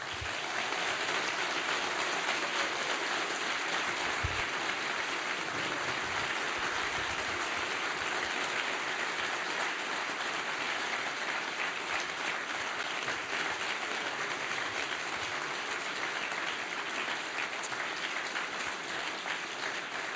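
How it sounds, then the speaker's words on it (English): A university hall audience applauds the Seattle mayoral debate candidates in a long, even burst of clapping that keeps up a steady, rain-like wash at moderate distance for about twenty seconds, with no speech over it. "And round of applause for candidates."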